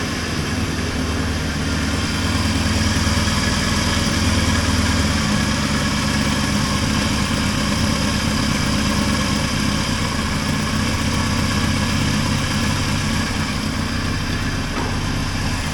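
1980 Triumph TR7 engine idling around 1000 to 1200 RPM, a steady close rumble that stays even throughout with no talking.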